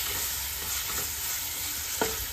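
Ginger garlic paste is stirred into chicken curry in a pan: a soft, continuous frying sizzle with light scraping strokes of the spoon, close and steady, and one sharper clink near the end.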